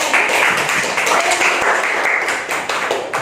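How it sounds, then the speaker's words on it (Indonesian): Audience clapping for the first presenting group at a teacher training performance test in a classroom, a steady dense patter of many hands sustained throughout, moderately loud and fairly close. "tepuk tangan dulu dong untuk kelompok 1"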